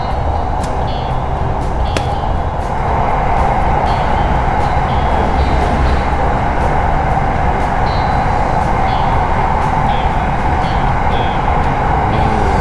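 Inside a Bangkok Red Line electric train running past Bang Son station between Bang Sue and Taling Chan, a loud, steady rumble of wheels and motors fills the whole stretch, without speech.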